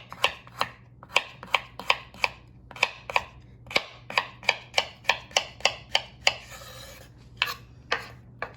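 A knife slices a peeled carrot on a cutting board in a run of crisp, evenly spaced chops, close and clear, with one brief scraping pause partway through.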